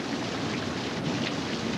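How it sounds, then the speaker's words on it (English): Thunder and rain in a storm during tornado watching in Frio, a steady wash of rainfall with a low rumbling swell of thunder underneath, heard at moderate level with no talking. "Look at the thunder. It's going."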